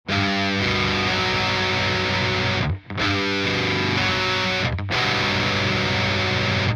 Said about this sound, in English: Here's the major seventh in a drop tuning.